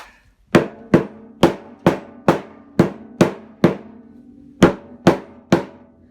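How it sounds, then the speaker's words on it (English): A soft hammer strikes a hollow plastic part of a Hotpoint washing machine about a dozen times in a steady rhythm, each dull thud ringing briefly before the next. "with my soft hammer, I'll just work it around the plastic."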